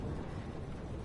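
A thunderstorm in the video game Life is Strange, heard as a brief, loud, steady rumble of rain and thunder that fills the whole moment.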